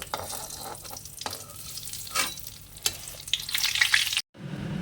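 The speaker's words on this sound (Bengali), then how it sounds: "তেলটা গরম হলে এই লঙ্কাগুলো একটু আগে ভেজে তুলে নেব" Whole chillies fry in hot oil in a wok, a loud continuous crackling sizzle with a few stirring clatters, close up and without voices, cutting off abruptly near the end.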